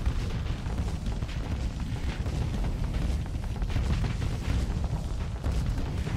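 Continuous barrage of spaceship cannon fire and explosions from a Starsector space battle, dense booming and popping bursts layered over a loud rumbling bed with no talk.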